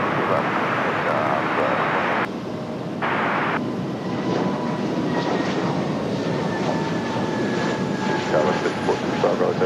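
A jet airliner rolls for takeoff on runway 23 left, a loud broad roar filling the scene throughout with a brief dip partway, while a tower controller's radio voice talks over it.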